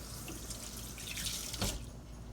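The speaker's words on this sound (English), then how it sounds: "let me wash my hand here" Hands being washed under a running kitchen tap while baking an old-fashioned buttermilk pecan pie: a steady close hiss of flowing water with a brief splashy surge near the end, no talking.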